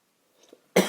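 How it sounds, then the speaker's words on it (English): After near silence and a faint stir, a single loud, close cough bursts out at the end. "I don't know why I'm coughing"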